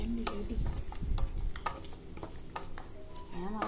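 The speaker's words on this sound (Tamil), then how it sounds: "நல்லா கொதிக்குது." Pumpkin halwa with a tumbler of sugar boiling in a pan while being stirred, giving a steady close bubbling sizzle with repeated scraping strokes of the spoon throughout.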